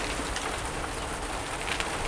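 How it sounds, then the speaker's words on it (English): Heavy rain hammers down outside on an allotment, a steady, dense hiss of drops with no pauses, fairly close and filling the whole stretch. "it's raining absolutely hammering down outside"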